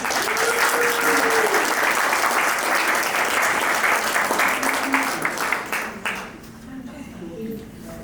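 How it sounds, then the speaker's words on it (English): A conference audience applauds guest speaker Todd at a client care program, a dense, steady wash of many hands clapping at full strength before tapering off near the end, with faint voices underneath. "How about another round of applause for Todd?"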